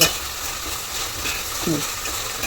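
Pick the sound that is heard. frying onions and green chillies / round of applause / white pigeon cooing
frying onions and green chillies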